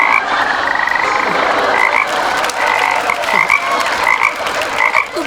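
Frogs croak in a forest at night, a dense, steady chorus of repeated rasping calls close by, with no talking.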